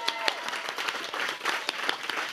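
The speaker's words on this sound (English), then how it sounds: "give them a round of applause" A small audience at a cabaret show claps at the close of the performance, a brief burst of dense applause with a few sharper individual claps standing out at moderate distance.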